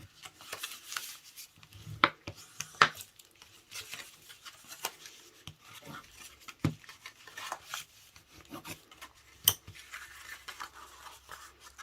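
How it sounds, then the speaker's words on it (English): Quiet rubbing and scraping of a burnishing tool along score lines on paper for a spring paper basket, a soft irregular patter of strokes with a few sharper scratches, close and alone. "just burnish all those score lines"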